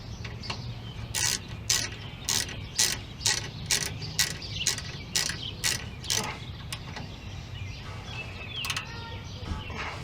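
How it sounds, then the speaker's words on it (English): A ratchet wrench with a 10mm socket tightens the rear brake caliper bolts on a Ford F150, giving about ten short bursts of rapid, close clicking in a steady rhythm, with no talk. "now just take your 10mm, tighten these down."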